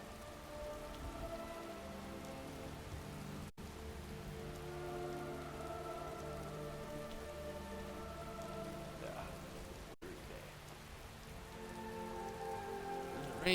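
Video game rain falls steadily on surfaces as a soft, even patter, with faint sustained tonal music layered underneath throughout.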